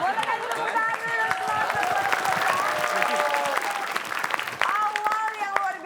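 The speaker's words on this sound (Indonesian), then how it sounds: "Boleh kasih tepuk tangan dulu" A game-show studio audience claps and cheers continuously, a dense, lively burst of applause with whoops and faint voices mixed in.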